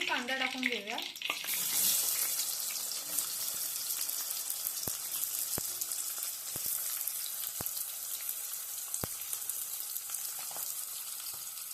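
Onion and curry leaves frying in a pan, giving a loud sizzle that builds after a brief opening noise, with a few sharp clicks of a utensil against the pan.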